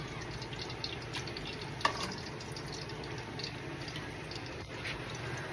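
Steady hiss and crackle of fish frying in hot oil, continuous throughout, with an occasional sharper pop standing out.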